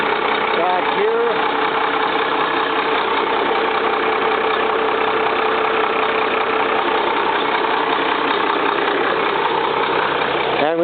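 A Greyhound bus motorhome's engine, just jump-started after a long effort, idles steadily and loudly with a continuous knocking drone, while someone talks over it.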